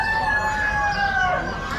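A young rooster crows at an Amish animal auction, a drawn-out strained call held over a busy, rumbling background of barn noise and other poultry.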